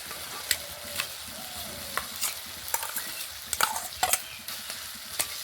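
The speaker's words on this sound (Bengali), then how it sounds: "মশলার সঙ্গে ভালো করে একটু নেড়ে চেড়ে মিশিয়ে নেব" Mashed boiled potato being stirred into fried spices and turmeric in a pan, with close, irregular spatula scrapes and taps over a soft sizzle, no talking.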